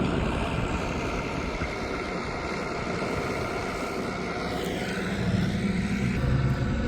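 A tractor working in the fields outdoors gives a steady, loud low engine drone and rumble that carries on throughout, with no talking.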